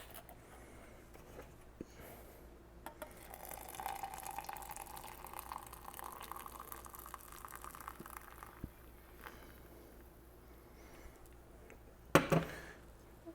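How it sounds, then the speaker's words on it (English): Coffee is poured steadily into a glass for several seconds, a soft trickling fill in a quiet room, followed later by a sharp clink. "now I'm going to pour my coffee."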